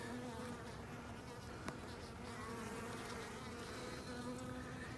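Honey bees buzz steadily and densely inside an open hive during a February spot check, a continuous close hum with no talking.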